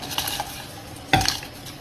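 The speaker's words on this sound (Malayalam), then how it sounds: "നമുക്ക് അരി ഒന്ന് ഇളക്കി കൊടുക്കാം." Rice stirred in a pot of boiling salted water, cooked Maharashtra style; one short scraping clatter of the spoon against the pot midway, with faint kitchen noise before and after.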